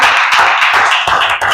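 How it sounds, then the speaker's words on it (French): A church congregation claps loudly and close by in acclamation, the hand claps falling in a quick, steady rhythm through the short stretch. "Est-ce que nous pouvons donner une acclamation au Seigneur?"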